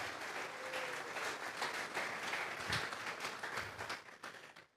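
A church congregation breaks into sustained applause, a dense wash of clapping held steady for several seconds before tapering off at the end, heard at moderate distance in a reverberant hall.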